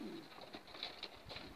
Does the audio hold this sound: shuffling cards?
no